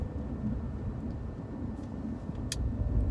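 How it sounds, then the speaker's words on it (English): Steady low rumble of a car engine and road noise from inside a moving car on a city drive, continuous and fairly loud, with a brief sharp higher hiss partway through and no talking. "I'm driving here."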